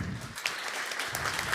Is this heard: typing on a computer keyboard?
no